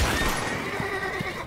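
A horse in the video game Red Dead Redemption 2 gives a brief, loud, shrill whinny over a dense background of game sound.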